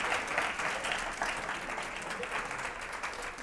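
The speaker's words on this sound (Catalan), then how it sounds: "Aplaudim també a la Judit" A studio audience on a Catalan TV quiz show applauds in a steady, moderately quiet burst of clapping that carries on evenly for a few seconds without a clear end.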